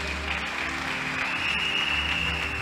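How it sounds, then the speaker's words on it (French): An audience claps steadily for nearly three seconds in a dense, even wash, with a thin steady tone running underneath. "If you want to clap, you clap."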